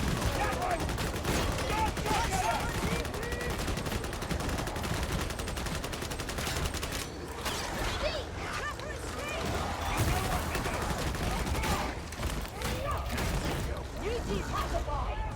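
A braced autogun fires in Darktide: dense, continuous rapid gunfire rattles throughout, mixed with other combat noise and occasional voices.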